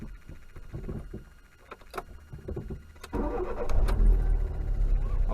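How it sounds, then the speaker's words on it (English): A 1994 Fiat car engine starts up: the starter cranks briefly with some clicks and handling noise, then the engine catches and settles into a steady, rumbling idle close by. "I'm going to start the stopwatch before I start the engine"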